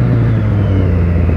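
A motorcycle engine revs briefly and loudly close by, giving a rough rumbling pull. No voices are heard.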